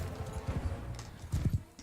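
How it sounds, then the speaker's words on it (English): Horses gallop in the Mount & Blade II: Bannerlord video game, a steady stream of thudding clip-clop hoofbeats with a louder cluster of hits near the end, no speech over them. "the horses are running so stupidly into the way"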